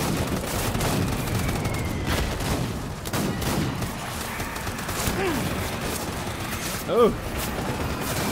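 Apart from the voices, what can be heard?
gunfire in the video game Death Stranding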